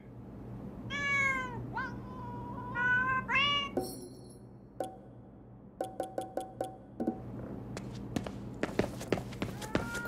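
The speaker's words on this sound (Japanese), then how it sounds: "この猫何してるんだろう。" Several meows from a cat in the video game Ghostwire: Tokyo, clear and close over a low steady hum, followed by a series of short light taps like footsteps.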